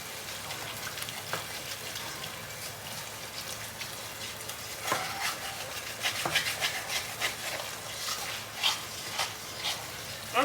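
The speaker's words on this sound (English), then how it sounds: "I'm gonna keep whisking this shit up though." A whisk scrapes and rubs through homemade gravy in a pan for smothered pork chops, with soft irregular scraping strokes that grow busier and louder toward the end, quiet and close with no speech.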